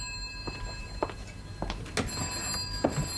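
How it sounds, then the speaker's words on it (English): An old telephone bell rings in a quiet interior, sounding as a few short repeated trills at moderate distance, with no talk over it. "will you answer the phone"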